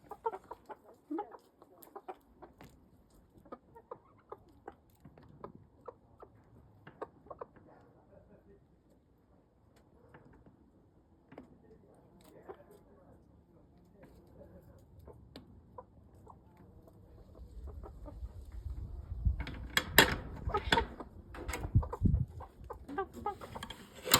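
Chickens cluck in their coop, with scattered soft clucks at first, then louder, busier clucking and rustling near the end.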